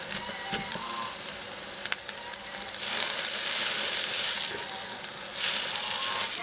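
Shredded pumpkin pancakes, with flour mixed into the batter, sizzle steadily in a frying pan, a close continuous crackle with a few light clicks and scrapes.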